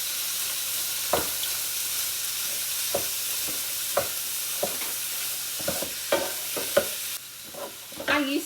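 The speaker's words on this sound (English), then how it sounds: "we're going to go ahead and cook it with our sausage" Sausage frying in a pan with an onion, celery and pepper seasoning mix, giving a steady low sizzle broken by several sharp scraping stir strokes, with no talking.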